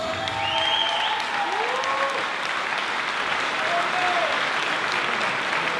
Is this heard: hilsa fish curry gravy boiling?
no